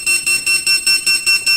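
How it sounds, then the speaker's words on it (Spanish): Beeping from a KNX flood alarm: a loud, regular run of eight short high electronic tones, evenly spaced and heard close with nothing else over them. "se oye el pitido, incluso aquí en la pantalla estaríamos viendo la alarma de inundación"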